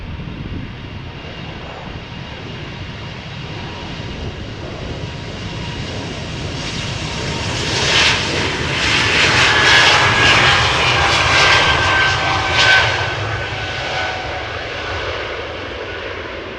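Heavy jet airliners taxi and pass at Amsterdam Schiphol Airport, a loud engine roar that swells to a peak midway with a rising whine, then slowly fades, heard from nearby without talk.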